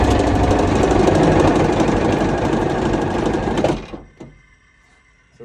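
An armored personnel carrier's diesel engine cranks loudly with a rapid, rattling rhythm for several seconds, then cuts out abruptly, leaving near silence.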